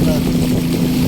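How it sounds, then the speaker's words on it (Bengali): A riverboat motor drones steadily as the boat pushes slowly upstream against the current on the route to Remakri, a loud continuous hum mixed with wind noise over the microphone. "সেজন্য বোটটা চলছে একটু আস্তে আস্তে"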